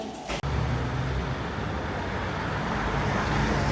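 Steady street traffic on a walk to a shop: a loud, continuous roar of passing cars and buses close by, one brief dropout near the start, then unbroken road noise with no talking.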